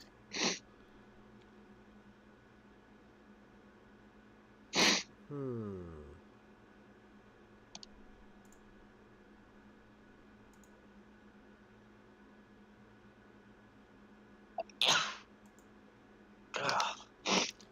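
Repeated sneezing from seasonal allergies, several brief sharp bursts spaced across a quiet stretch with a faint steady hum beneath, some sneezes coming in quick pairs.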